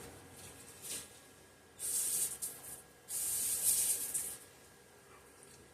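Cleaner sprays onto the threads of a Homelite XL12 chainsaw part in short hissing bursts, two longer sprays after a brief one, heard up close and alone.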